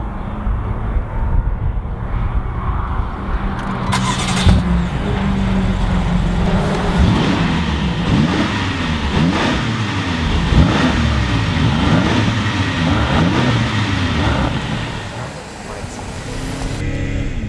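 A BMW X6 M on track at Circuit of the Americas in Austin, Texas, loud and close from inside the cabin, with the engine climbing through repeated revving sweeps and gear changes under steady road roar.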